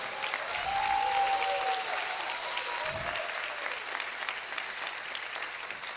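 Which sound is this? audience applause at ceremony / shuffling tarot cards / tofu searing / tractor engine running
audience applause at ceremony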